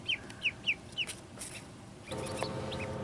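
Two chickens cluck in a farm coop with a duck kept nearby, giving a few short, close calls in a quick series and then a softer cluck under steady background noise.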